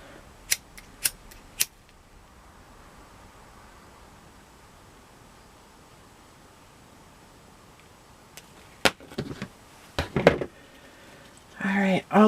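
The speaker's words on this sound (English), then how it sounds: "I have to sharpen my scissors." Scissors snip through ribbon for a tie-dye boutique bow: a quick run of three sharp cuts, a quiet gap, then several more close snips mixed with rustling handling.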